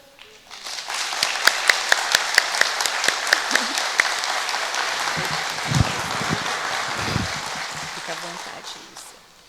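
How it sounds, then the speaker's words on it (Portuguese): A crowd applauds steadily, dense clapping filling the space with sharp individual claps standing out near the start, sustained for several seconds before tapering off. "as nossas salvas de palmas"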